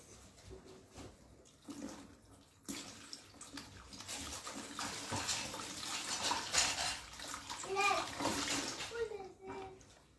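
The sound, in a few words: washing hands with water from a bucket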